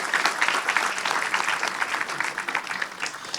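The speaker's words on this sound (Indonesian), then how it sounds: "Kita beri tepuk tangan untuk diri kita sebagai bentuk rasa syukur." An audience at an evening gathering applauds in a sustained, dense round of clapping that stays loud throughout.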